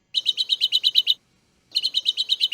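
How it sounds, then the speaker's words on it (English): A small tree finch repeats a quick series of high, evenly spaced chip notes, then pauses briefly and starts a second identical run, clear and close with no voices. "That's a small tree finch."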